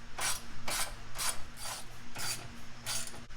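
A ratchet tightening the bracket bolts of a single exhaust mid-pipe on a BMW F80 M3, heard as six evenly spaced bursts of rapid clicking, close and clear, with no talk.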